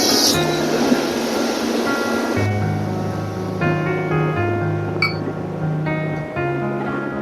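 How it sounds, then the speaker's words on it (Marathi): Water is poured into a pan of home-style spiced stuffed onions, giving a loud, broad splashing rush for a couple of seconds before it stops, with tuneful background music throughout. "थोडस पाणी घालून घेऊ आपण."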